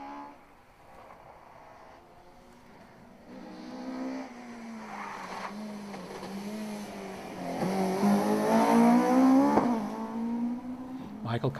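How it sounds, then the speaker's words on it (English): Honda Civic Class 11F rally car at a Galway international rally, engine note rising as it approaches and swells loudest near the end, with a commentator talking over it throughout. "their little Civic Class 11F car"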